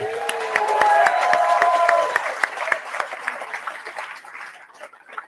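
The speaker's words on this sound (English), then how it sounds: "Can we have another round of applause for that?" Audience applause after a speech at a political party launch in Newcastle: scattered sharp claps over cheering voices and a whistle, fading to a sparse, thinning patter of individual claps by the end.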